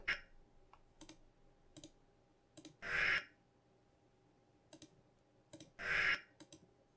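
Computer mouse clicking during editing in Magix Movie Edit Pro: faint, sparse single clicks spread across several seconds, with two louder short rustling bursts, in a quiet room with no talk.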